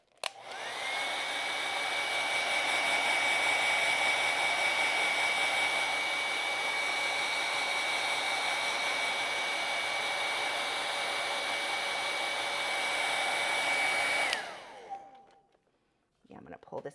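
Hair dryer blowing on acrylic paint, a loud steady whoosh with a constant whine that runs for about fourteen seconds before switching off and winding down.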